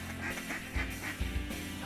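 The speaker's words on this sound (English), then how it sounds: "ducks fill the air." Ducks flying over a decoy spread on a Mississippi Flyway hunt in eastern Arkansas at daybreak quack in a few short, scattered bursts, moderately distant against a soft outdoor background.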